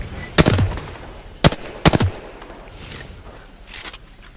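Gunfire in Apex Legends, several sharp close bursts and single shots spaced irregularly, with quieter distant shots trailing off afterward.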